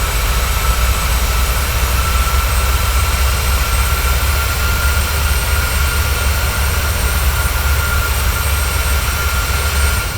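Airliner jet engines in Microsoft Flight Simulator during a climb toward cruise altitude, a steady loud roar with a deep low rumble and broad hiss that holds constant throughout, no voices.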